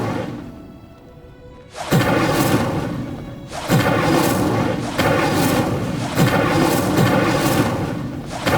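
Incendio fire spell cast in Hogwarts Legacy: three loud booming bursts with whooshing flare, each blast sustaining briefly before the next, after a quieter lead-in.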